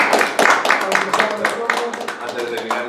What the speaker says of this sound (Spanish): despedimos a Ana con un aplauso